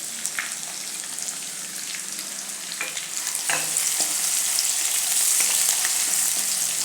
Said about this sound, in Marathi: आता कांदाही थोडासा गुलाबी रंगावर येईपर्यंत आपल्याला भाजायचा आहे